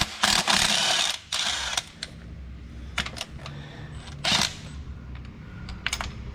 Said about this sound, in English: Switching over to a 5/8 deep socket is what we use to remove the spark plugs.